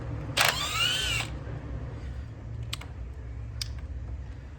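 A power tool whirs briefly while loosening valve cover bolts on a 2002 Mitsubishi Eclipse, followed by a couple of quiet metallic clicks against a low background hum.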